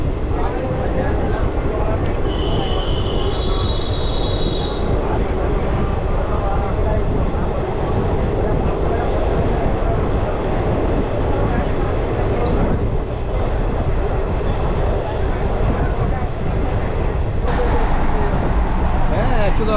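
The Vande Bharat express pulls out of Pakur station in Jharkhand, a loud continuous rumble and rattle of rolling carriages lasting throughout, with brief high tones near the start and sharp clicks of rail joints.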